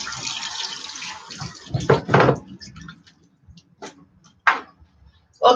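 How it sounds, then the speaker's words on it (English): A kitchen tap runs as hands are washed under it, first a steady close hiss of water, then splashy bursts and drips that break up as the flow stops. "Let me wash my hands there."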